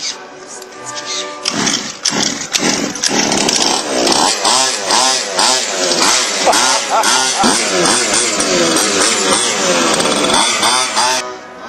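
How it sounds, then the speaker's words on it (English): A gas-powered remote control car engine revs loudly and continuously, its buzzy two-stroke whine rising and falling with throttle changes at close range, with no talk over it. "gas remote control cars"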